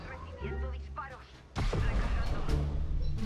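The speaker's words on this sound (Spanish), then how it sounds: "Estoy recibiendo disparos." Gunfire in the Apex Legends video game, a burst of loud shots and booming impacts breaking in after quieter moments, with a voice speaking over the earlier part.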